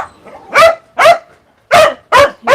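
Several caged dogs at a South Korean dog meat farm bark in a loud, close series of five sharp barks, with short irregular gaps between them and no talking.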